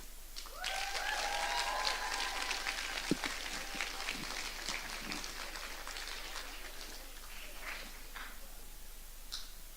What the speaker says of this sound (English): Can you please give a warm round of applause to Marja Rosalska with her poem Sin?